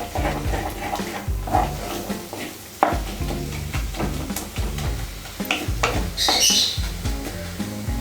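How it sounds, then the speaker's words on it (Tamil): Onion and tomato masala sautéing in a pan for Chettinad crab masala, with steady sizzling and repeated scraping stirs of a spoon, the clatter of the pan close and continuous. "வெங்காயம் தக்காளி நல்லா வந்து மசிகிற அளவுக்கு இதை வதக்கிக்கோங்க"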